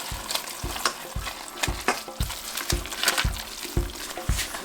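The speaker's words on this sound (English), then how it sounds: "And then we stir it again." A spoon stirs an almond milk mixture in a pot in regular scraping strokes about twice a second, close and clear over a soft bubbling sizzle.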